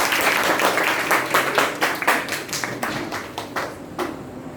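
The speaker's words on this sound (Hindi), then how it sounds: "ताली बजाइए।" A classroom audience claps together in brisk, fairly even beats. The sharp, close claps are loud at first, then thin out and fade over a few seconds.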